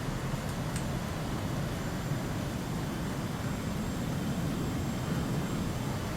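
A jet aircraft in a flight combat video game making a naval landing on a carrier's shorter runway, heard as a steady broadband engine roar and rushing air, loud and continuous with no voices.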